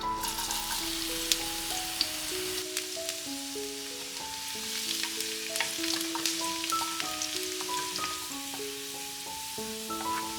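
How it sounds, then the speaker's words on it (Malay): Garlic sizzles steadily in hot oil with soft crackles, under a melodic background music track. "Masukkan minyak agak-agak dalam 4 ke 5 sudu. Kemudian masukkan 3 ulas bawang putih yang dicincang halus."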